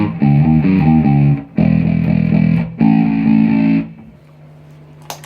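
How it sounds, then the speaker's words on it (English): Bass guitar played through a distortion effect in a two-amp rig, three loud sustained fuzzy notes with gritty harmonics, each cut off abruptly before a quieter tail and a small click at the end. "if I turn any of the effects on, like that distortion"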